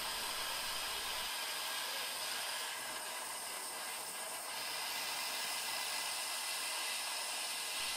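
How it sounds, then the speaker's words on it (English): Gas torch heating metal to melt solder into a join, a steady, close roaring hiss of the flame that runs unbroken throughout, fairly faint and with no speech. "the idea is to use the torch on the metal rather than the solder"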